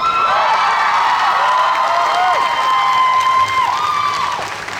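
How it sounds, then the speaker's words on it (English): A rally crowd at New College of Florida cheers and applauds loudly, with whoops and shouts rising over sustained clapping, steady and close before easing slightly at the end. "Wow, you all are a great crowd."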